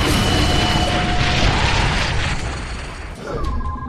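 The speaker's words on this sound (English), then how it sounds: "Get ready for big booms." Heavy bombardment in the shooter game The Bureau: XCOM Declassified, a dense continuous roar of loud booms and blasts with crackling debris, easing slightly near the end before another swell.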